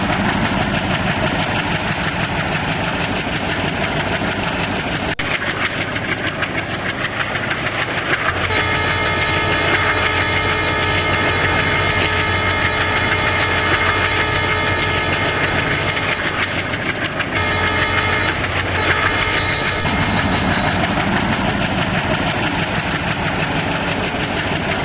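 A high-speed train running past, a loud continuous engine roar and rail rumble holding steady for the whole stretch, with shifts in tone midway and a faint clickety-clack underneath.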